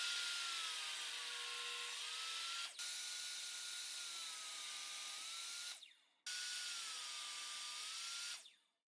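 A piece of wood is ripped down with a power saw, a steady loud whirring cut held for several seconds, briefly interrupted twice as the blade stops and restarts, close with no talk.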